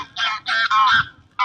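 Geese honking at a fishing lake during a match, a run of loud, close harsh honks in quick bursts followed by a short pause and one more honk.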